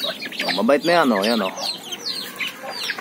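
Native labuyo chickens cluck and chirp up close in short warbling bursts while someone speaks briefly.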